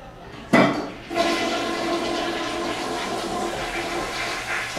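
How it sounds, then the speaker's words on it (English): A toilet in a restroom flushes with a sharp clack of the handle, followed by a loud, steady rush and gurgle of water that keeps running to the end. "it's also important that we always keep the toilets flushed"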